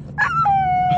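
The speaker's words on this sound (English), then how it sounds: "What a dog, man, what a dog." A dog howls loud and close in a single rising-then-falling wail with a short yip at the start, heard on its own without talk.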